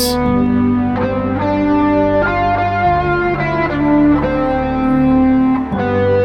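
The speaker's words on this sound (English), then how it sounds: "That's the sound of Dorian." Distorted electric guitar plays a run of single notes in the Dorian mode over sustained tones, with effects and echo, loud and continuous.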